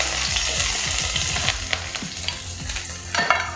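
Chili, garlic, ginger and capsicum stir-fry in a hot kadai for paneer chilli: a steady loud sizzle with repeated scraping stirs and ladle knocks, close up and with no talking.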